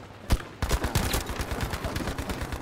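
Rapid bursts of sniper rifle fire in a video game, one sharp shot followed by a dense rattling volley of repeated cracks, loud and close with no talking.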